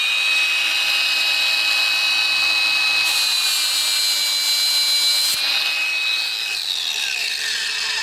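Hercules 20V paddle switch cordless angle grinder grinding a surface, a loud steady high-pitched whine running continuously, briefly rising in pitch midway, close and alone with no talk.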